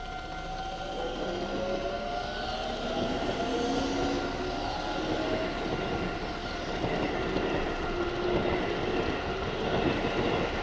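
A Keisei Line train runs past a level crossing, its broad steady rumble and rising-and-falling tones filling the whole stretch, loud and close outdoors with no talk.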